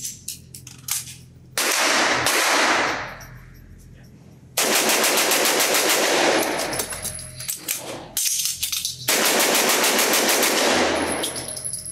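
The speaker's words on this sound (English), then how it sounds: "let's see how fast I can dump this magazine, change it out, and get the gun back in action" A Noveske Space Invader 9mm pistol fires a full magazine in rapid strings at a range: loud, sharp bursts of closely spaced shots, broken by short gaps where the shooting stops before resuming.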